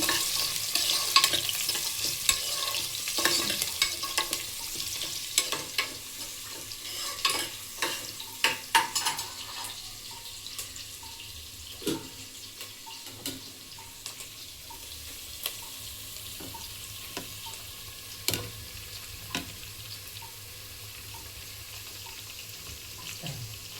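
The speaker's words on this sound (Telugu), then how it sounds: "అదే ఆయిల్లో ఒక చిన్న ఉల్లిపాయ వేసి బాగా కలిపెట్టాలి" A small onion fries in hot oil for mutton dum biryani while being stirred, with a low, steady sizzle broken by sharp, irregular clicks and scrapes of the spoon on the pan.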